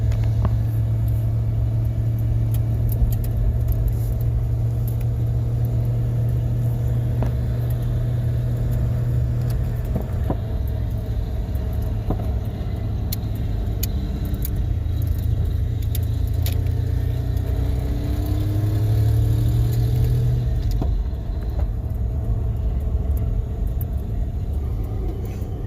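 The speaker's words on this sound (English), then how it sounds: "This truck goes pretty quick, pretty fast, so I'm not going to go up to third gear." A truck holds second gear on a slow road with a 20 speed limit. Its steady engine rumble and drone carry on without a break from near the cab, and the pitch shifts slightly as speed changes. No one speaks.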